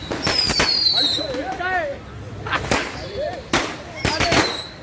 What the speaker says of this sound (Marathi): फटाके मोडते फटाके